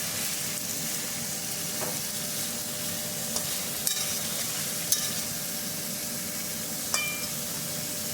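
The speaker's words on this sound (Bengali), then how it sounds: "দিয়ে আমি ভালো করে নেড়ে দিচ্ছি।" Carrots, beans, squash and tomato frying in a pan while being stirred, a constant loud sizzle with occasional scraping clicks of the spatula.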